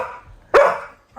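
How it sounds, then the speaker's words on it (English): A dog gives one sharp, loud bark close by, cutting through a faint background voice, with a brief quieter sound trailing at the end. "I'm being attacked by doggies."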